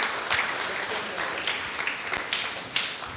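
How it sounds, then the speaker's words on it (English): An audience claps for a panel of judges at a celebration event, a dense, steady wash of applause with no speech, holding fairly even for the whole stretch. "Let's clap for all of our judges."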